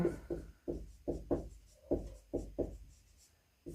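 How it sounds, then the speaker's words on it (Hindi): A pen writing notes on paper, a run of short scratchy strokes in quick irregular bursts, close and quiet. "और डॉक्टर रामचंद्र वर्मा की लिखेंगे"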